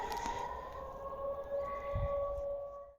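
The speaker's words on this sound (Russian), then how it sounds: "Сирена над Энгельсом все еще есть" A civil defense air raid siren wails over Engels, a steady sustained tone held for the whole stretch, loud and continuous with faint background rumble.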